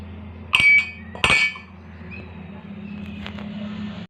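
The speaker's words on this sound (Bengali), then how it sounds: "আর এখানে এই আদাটা আমি এখানে দিয়ে দেব, দিয়ে এরকম একটি হাতল দিয়ে এগুলোকে ভালো মতন পেস্ট করে নেব।" Ginger pounded into a paste with a pestle. Two loud, sharp clinking strikes ring out early, then a quieter scrape follows against a low steady background hum.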